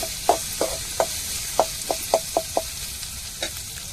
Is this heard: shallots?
yes